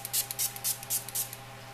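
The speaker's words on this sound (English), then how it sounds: "I'm going to spray myself" Quick hissing spritzes from a pump mist bottle, about eight short sprays in rapid bursts, close up.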